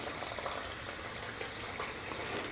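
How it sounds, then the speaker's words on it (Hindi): A small semolina puri fries in hot oil in a kadai, giving a steady, close, fine bubbling sizzle that holds even throughout with no voices. "तो ये हमने ऑयल डाल दिया है कढ़ाई में फ्राई करने के लिए, तो छोटी सी पूरी डालकर देख लेते हैं कि हमारा ऑयल जो है वो प्रॉपरली गर्म है या नहीं।"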